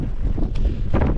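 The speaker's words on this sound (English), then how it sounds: "Windy up here, obviously." Strong gusting wind buffets the microphone on the summit of Mt Snowdon, making a loud, steady low roar and rumble that lasts the whole moment with no voices.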